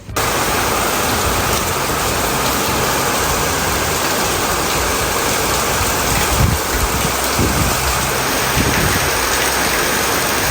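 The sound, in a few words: heavy rain falling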